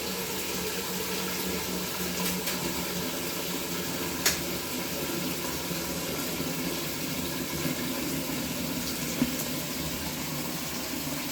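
Water runs steadily from a tap into a cooking pan on the cooker at the start of a northern-style broth, a continuous even rush with no voices over it.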